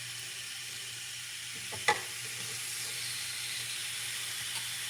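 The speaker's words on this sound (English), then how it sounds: "I'm going to put the pork chops on the griddle" Pork chops sear on a hot griddle with a steady broadband sizzle throughout, fairly quiet and even, broken once by a brief louder crackle or clatter near the middle.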